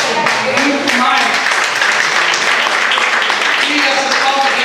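A church audience claps in a brisk, continuous patter of many hands, fairly loud and near, while a voice talks over the applause.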